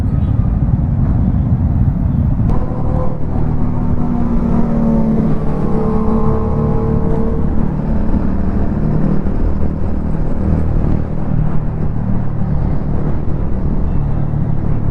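Dense road traffic rumbles around a motorcycle stopped at a traffic signal in Bengaluru, a loud continuous engine drone with revving swells and passing vehicles, no talk.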